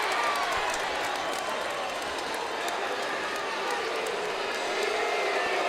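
Dense, steady roar of a crowd at a women's MMA bout, loud and continuous throughout with broad noisy texture and occasional sharper claps or shouts over it.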